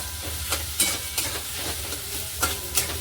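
Chopped onion frying in a pan with cloves and a cinnamon piece for paneer bhurji, a steady low sizzle broken by several scraping stirs, close and moderately loud with no talking.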